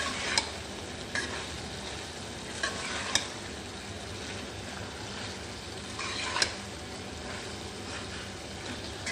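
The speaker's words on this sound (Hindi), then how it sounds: "अभी मैं इसमें शामिल करूँगी 1 कप के करीब मैक्रोनीज, एल्बो मैक्रोनीज, और इसे अच्छे से मिक्स कर लूँगी।" Elbow macaroni is stirred into a chicken and vegetable filling in a hot pan, with a steady soft sizzle and periodic scraping strokes of a spoon across roughly nine seconds.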